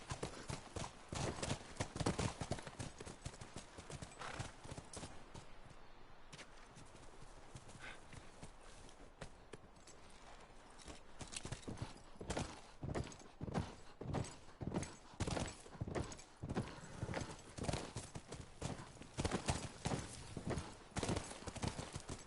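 Steady clip-clop of horse hooves walking in a video game, a regular rhythm of hoofbeats that eases off briefly midway, then continues close and clear.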